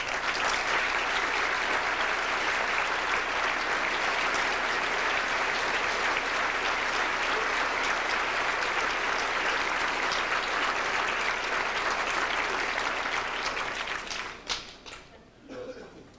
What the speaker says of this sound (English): I'd like to have you rise again and extend an applause to you